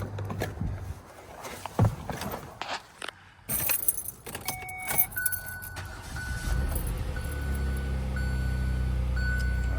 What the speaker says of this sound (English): let me crank the vehicle now